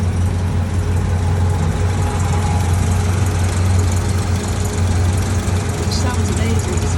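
A classic MK1 Ford Escort fitted with a 2-litre Zetec engine idling nearby: a steady low hum held throughout, with a person talking over it.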